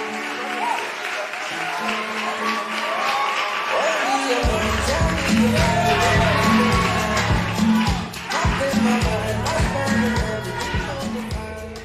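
An audience applauds a contestant named Joe on a TV talent show, sustained clapping that swells after a few seconds as music kicks in beneath it, with a voice over the top.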